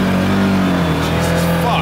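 Vehicle engine revved hard at full throttle, a loud close sustained roar with rising tones, with talk over it.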